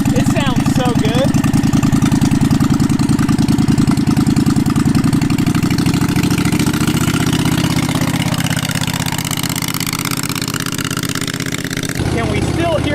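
A Predator 670 V-twin engine, rejetted with the governor bypassed, idles on a 4WD go kart, a loud steady low rumble held close throughout, with a brief shift near the end and voices heard faintly over it.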